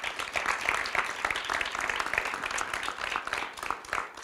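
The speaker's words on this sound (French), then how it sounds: "on peut leur donner une bonne main d'applaudissements" Applause from the audience at a youth council election night in Victoriaville, a fairly quiet, steady crowd clapping for the event volunteers that holds for several seconds.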